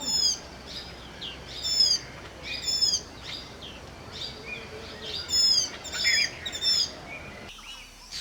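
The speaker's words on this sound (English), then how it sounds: "These diminutive birds with a characteristic white ring around the eye have built their little hammock-shaped nest between the fork of a branch and are busy feeding their chicks" Small white-eye birds with a white ring around the eye feeding chicks at a hammock-shaped nest in the fork of a branch, giving repeated high, thin chirps and twittering calls in bursts over a steady outdoor background.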